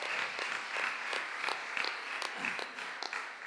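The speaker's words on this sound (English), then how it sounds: "Let's give a round of applause to the media team." A small indoor audience at an office bearers' retreat claps in thin, scattered bursts, fairly faint and distant, with individual hand claps standing out over a soft background.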